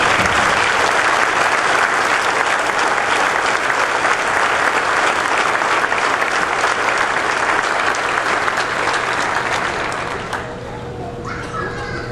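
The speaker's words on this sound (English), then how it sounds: "I'm asking all of you to join me in applauding them for the fine education they have provided our students" Sustained, loud applause from a large commencement audience at Upper Iowa University, many hands clapping in a thick continuous roar that thins and fades out near the end, with faint voices underneath.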